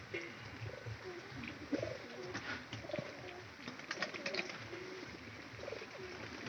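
Pigeons coo repeatedly in a loft, soft rolling calls rising and falling over steady background noise, with a few brief higher chirps and no talking.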